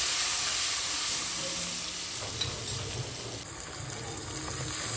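Chili paste frying in hot oil with a pinch of asafoetida in a kadai, a steady close sizzle and hiss with faint stirring scrapes, no voices.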